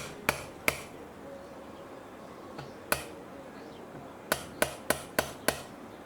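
Sharp, light taps of a soft hammer driving pins out of a Ruger American Ranch rifle, a few isolated strikes and then a quicker run of five, close and crisp with no talk.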